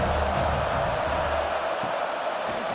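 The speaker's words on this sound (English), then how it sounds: "3rd down, and the crowd really getting into it" A football stadium crowd roars steadily on a college game's third down, Navy at Memphis, a dense wall of cheering that holds loud and unbroken throughout.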